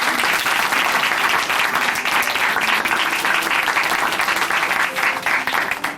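Loud, dense congregational applause in a church testimony program, many hands clapping close and continuous without pause.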